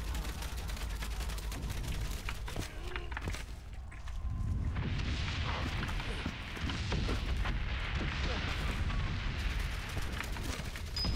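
Explosions and artillery-like booms from the World War I video game Valiant Hearts: The Great War, heavy rumbling blasts filling the clip with dense battlefield noise, louder in the second half, with no talk.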